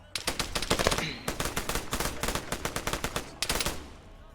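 Rapid automatic gunfire in Arma 3 during an assault inside a helicarrier bay: dense, loud, fast bursts of shots with a short pause before a final volley.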